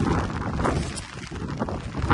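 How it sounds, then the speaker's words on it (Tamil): Strong wind from Cyclone Fengal during a heavy rainstorm roars as a steady, dense rush buffeting the microphone, loud and close, with no voices over it. "என்னால் நிற்க முடியல, அந்த அளவு காற்று அடிச்சிட்டு இருக்கு"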